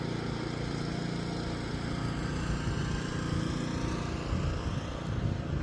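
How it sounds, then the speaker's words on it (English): A steady, droning riding lawn mower engine runs continuously at moderate volume, a low rumble with no breaks and no voices. "Just drive around the yard on the lawnmower."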